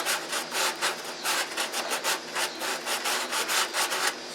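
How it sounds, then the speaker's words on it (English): Rhythmic back-and-forth sanding of cured Super Fill filler flat on a balsa wood fillet, each stroke a close, dry scratchy rasp repeating steadily for several seconds with nothing else audible. "I just filled it up with super fill, and I'm sanding it flat now"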